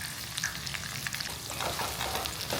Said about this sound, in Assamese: এতিয়া এইখিনি অকণমান ৰঙচুৱা হোৱালৈকে ভাজি ল'ম